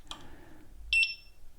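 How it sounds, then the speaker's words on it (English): A Mten4 electric unicycle gives a short chirp, then after a pause a sustained high electronic beep in its power-on sequence, clear and close in a quiet room. "Then you get the long beep."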